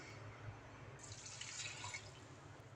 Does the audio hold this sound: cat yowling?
no